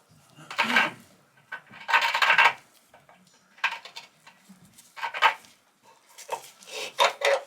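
A hard thread chase tap cuts into scale inside a water heater T&P valve fitting, producing bursts of gritty scraping and rasping in short repeated strokes with quiet gaps between them.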